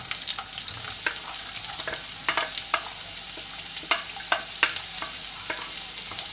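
Chopped onions sauté in hot coconut oil in a pan, with a steady bright sizzle and frequent utensil scrapes and taps as they are stirred, close by.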